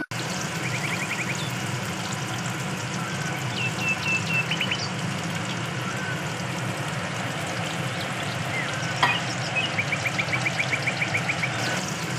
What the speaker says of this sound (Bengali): সর্ষের তেল গরম হয়ে গেছে আমি কালো জিরে এখানে দিলাম